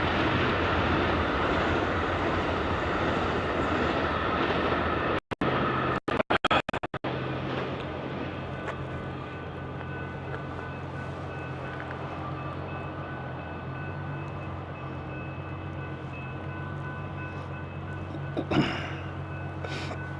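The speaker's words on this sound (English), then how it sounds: "There's a train, the Amtrak." An Amtrak passenger train passes with a loud, steady, continuous rumble that holds through the whole stretch, with brief crackling dropouts near the start and no talking.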